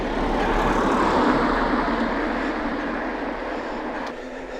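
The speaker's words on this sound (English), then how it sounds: "I think I can hear a car." A car passing along a country road, a broad rushing swell that peaks and then fades over a few seconds, heard by a cyclist on the move.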